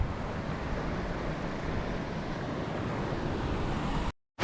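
A mountain water stream on the Hiran Bagh trek near Gilgit rushes in a steady, even hiss of flowing water that continues unbroken until a brief cut at the very end.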